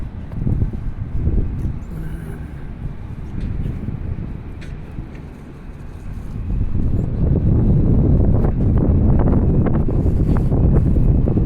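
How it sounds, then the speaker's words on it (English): Wind buffets the microphone on a waterfront street beside a construction area, a continuous low rumbling roar that dips briefly and then grows stronger and steadier. "Little bit of wind right here."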